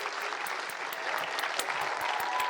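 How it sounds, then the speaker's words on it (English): Audience applause for Tom Cruise fills the room, steady dense clapping with sharp individual claps standing out, continuous and fairly loud throughout with no voices. "please keep that applause going"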